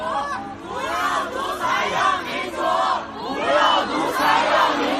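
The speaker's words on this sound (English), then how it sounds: "The crowd also chanted" Loud crowd of protesters in China chanting together, massed voices rising and falling in rhythmic shouted phrases with strong, overlapping energy throughout.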